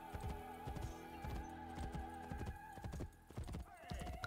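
A horse in Assassin's Creed: Brotherhood clip-clops along in a steady rhythm of hoof falls, with a whinny near the end. The hooves are close and moderately loud, and no one talks over them.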